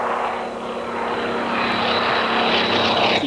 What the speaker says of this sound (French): voici un des derniers grands monoplaces de combat munis d'un moteur à piston